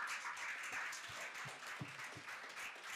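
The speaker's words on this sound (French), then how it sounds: "Je vous demande de l'applaudir chaudement" Applause from a school audience at a quiz competition, as a teacher is introduced on the jury: steady, dense clapping that runs through the whole stretch at an even level, with no talk over it.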